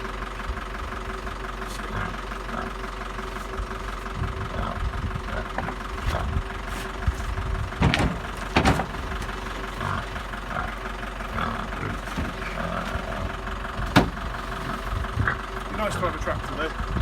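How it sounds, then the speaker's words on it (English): A farm tractor engine idles steadily in a farmyard in Pembrokeshire, a low continuous rumble with a few brief knocks and clatters over it, and a voice talking intermittently nearby. "Nice to have a tractor though."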